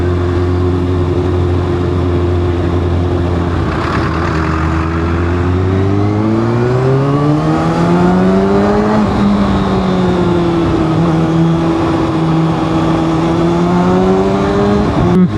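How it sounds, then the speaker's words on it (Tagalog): Road traffic heard from a moving motorcycle, a loud close engine drone whose pitch rises and falls through shifts and revs, steady throughout with no voices. "Traffic congestion."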